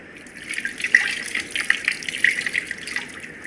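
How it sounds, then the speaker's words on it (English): Tender coconut water pours steadily into a drum while preparing panchagavya, a continuous splashing, gurgling stream close by with no voices. "you add 3 liters of tender coconut water."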